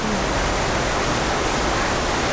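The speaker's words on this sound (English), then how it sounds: "You can't tell by looking, but that is one stinky flow of water" Incoming wastewater rushes steadily into a treatment plant on Lulu Island, producing a dense, even roar of flowing water with no voices.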